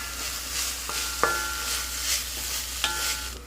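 Onions frying on very low heat in a covered pan are stirred, with a soft steady sizzle under it and a few ringing metallic clinks as the spoon or lid strikes the pan.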